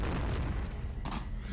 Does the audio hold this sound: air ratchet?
no